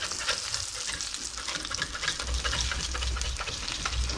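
A smashburger patty sizzles and fries steadily in a hot pan, a dense, continuous crackle and spatter heard up close and alone, with no voices.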